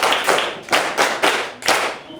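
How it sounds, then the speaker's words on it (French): Children clap for a visitor in a classroom: loud, close bursts of group clapping in a regular pulse of about five rounds, each a dense smear of hands, with no talk. "applaudissez pour l'ami"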